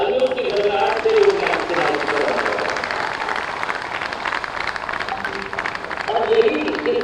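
Applause from an audience at a ceremony in Lucknow inaugurating an Air Asia India flight, a steady dense wash of clapping lasting several seconds with a voice speaking over it.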